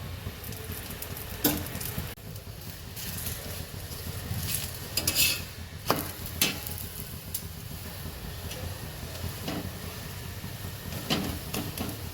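Oil going into a hot pan beneath a rolled methi paratha, giving a steady close sizzle with scattered sharp crackles and a few utensil clinks, no voices.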